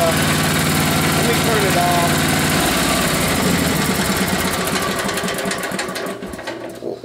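A Sears garden tractor engine runs steadily and close, a loud buzzing idle that holds even throughout, then tapers and roughens toward the end as if being shut down.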